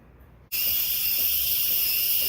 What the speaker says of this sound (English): if you have that loud hiss, you just kind of raise up that wand, let it sort of purge just a little bit